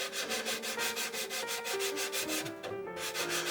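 A Flurry sanding stick rubs back and forth across a small plastic model part for a U.S.S. Reliant build, an even, rhythmic scratchy rasp of about a dozen close strokes.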